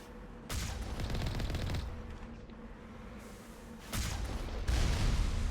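Rockets and explosive fire in the Mass Effect game, Anniversary Edition, come as a loud, sustained burst of blasts and crackling gunfire, then a quieter lull and further heavy volleys toward the end.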